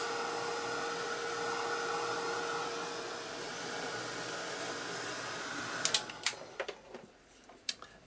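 A hair dryer blowing on a painted art journal page to dry it, a steady close whooshing drone that cuts off near the end, followed by a few light clicks and taps.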